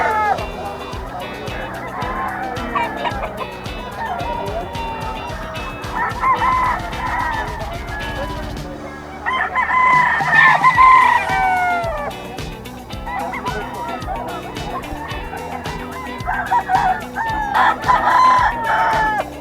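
Stag roosters at a Bocaue pet market crow repeatedly and loudly, some near and some farther off, overlapping with clucks and market background noise. Someone speaks at times between the calls.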